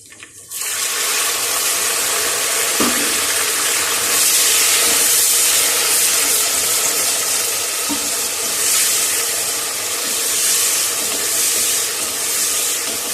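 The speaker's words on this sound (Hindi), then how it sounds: "अब मैं थोड़ा सा पानी डालने लगी हूँ" Loud, continuous sizzling and hissing as water is poured into a hot pan of browned frying onions for aloo gosht, bubbling steadily with a few faint clinks.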